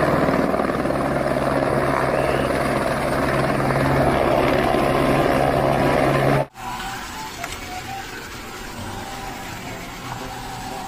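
A helicopter's loud, steady rotor drone fills the scene, with a sudden cut partway through to a quieter continuation of the engine noise.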